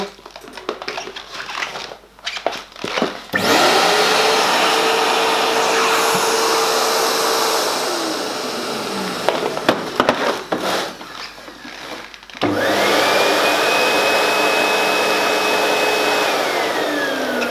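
A CONVAC 3000C service vacuum cleaner runs in two loud, steady stretches, each starting abruptly with a rising whine and holding a constant drone, separated by a brief pause with clatter.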